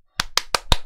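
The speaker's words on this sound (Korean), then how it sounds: "박수!" Four sharp hand claps at a steady, even pace, close and dry, heard alone with no talk, during a live Korean stock-market commentary broadcast.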